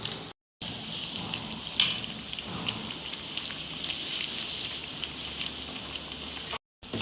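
Stuffed snacks deep-frying over a low flame in a kadhai, giving a steady dense sizzle and crackle that runs evenly throughout, close and fairly loud, with no talking.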